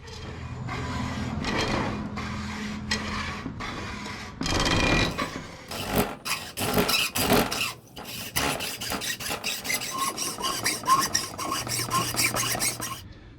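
Hacksaw cutting wood for a homemade bucksaw build, with rasping back-and-forth strokes, steady at first, then bursts of quicker, sharper strokes with short pauses, close and fairly loud.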